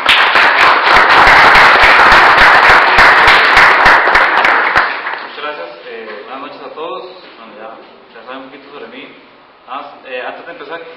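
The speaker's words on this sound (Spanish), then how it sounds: "Entonces démosle un aplauso a Franklin." Audience applause at a technical talk on integrating Android and Arduino: dense, loud clapping for about five seconds, then it stops and someone speaks.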